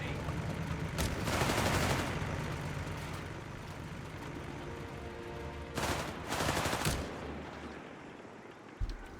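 An MG42 machine gun in the video game Company of Heroes 3 fires in rapid, rattling bursts, one long burst early, another later, and a brief shot near the end, over ongoing battlefield rumble.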